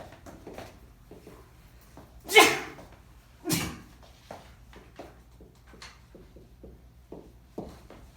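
Two sharp sneezes burst out a second apart, the first louder, over a quiet lecture room with faint shuffling.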